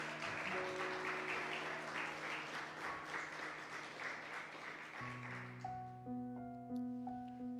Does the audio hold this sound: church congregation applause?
yes